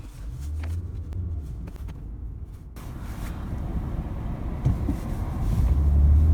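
A car driving on the road in the dark early morning on the way to work, heard from inside as a steady low engine and road rumble that grows slightly louder toward the end, no speech.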